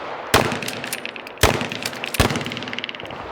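Two loud shotgun blasts ring out, nearby and clearly separated, at an outdoor defensive shotgun class, with a third sharp report from another shooter and ringing echoes trailing after each shot.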